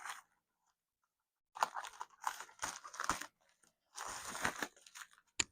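Paper crinkles and tears in several short, close bursts separated by silence, with scissors being handled among the rustling.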